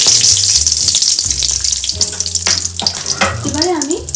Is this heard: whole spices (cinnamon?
yes